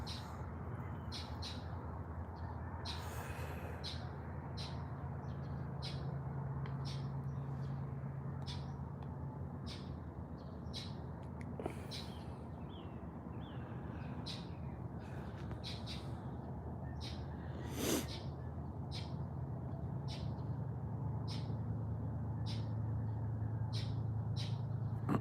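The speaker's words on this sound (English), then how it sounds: "Birds are starting to wake up." Birds call at dawn with repeated sharp squawks and chirps at a steady rhythm, moderately distant, over a constant low background hum, with no one talking.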